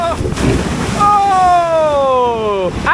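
A water splash on the drop of the Wild River log ride at Dreamland Margate, a loud rushing wash of water with wind, overlaid by a rider's long, loud, falling cry.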